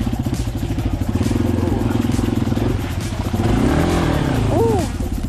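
A Yamaha XT250 dual-sport motorcycle is ridden off-road, its single-cylinder engine burbling loudly and rising in revs near the microphone, with a rider speaking briefly over it.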